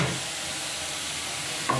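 Coriander, chili and turmeric powder fry in hot oil with a steady, close sizzle and soft stirring scrapes, holding continuously for under two seconds.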